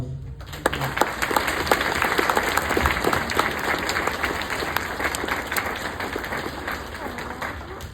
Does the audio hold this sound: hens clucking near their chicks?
no